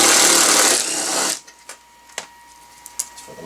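Power tool removing a 10 millimeter bolt on a 2001 Volvo S60: a loud whirring burst for about a second and a half, then stops, followed by a few faint clicks and taps.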